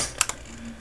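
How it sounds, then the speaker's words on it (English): A few quick keystrokes on a Dell Latitude D810 laptop keyboard, two close clicks standing out over faint room hiss, with no talking. "I can type stuff."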